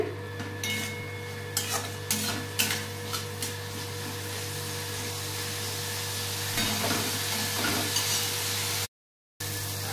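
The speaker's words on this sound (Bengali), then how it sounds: "এর মধ্যে একটু জল দিয়ে এটা একটু কষিয়ে নেবো মশলাটা" Spice masala with green chillies being stirred and fried in a pan with a little water, a steady low sizzle under repeated scraping and clinking of a spoon against the pot, close by with no talk.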